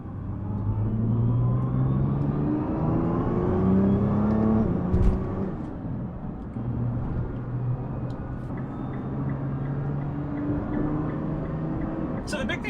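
A 2021 Nissan GT-R driving up a canyon road, engine droning and rising through gears with a steady rumble from inside the cabin, a brief gear-change dip midway, and a voice talking over it.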